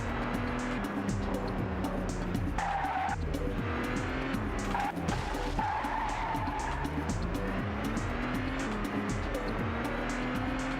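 A Lexus car in The Getaway PS2 video game, engine droning loudly and continuously while tires squeal and skid repeatedly through turns, close and steady with no pauses.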